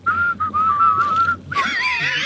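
Someone whistles a short tune, clear and close, with a few brief pauses between phrases, then a burst of broadband noise at the end.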